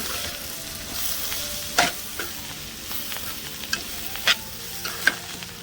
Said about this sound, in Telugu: ఒకసారి కలిదిప్పుకుందామండి